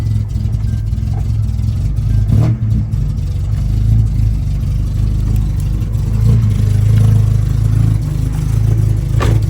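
A cheap project car's engine running with an exhaust leak, a close, loud, rough low rumble with clattering pulses and slight revving, no voices.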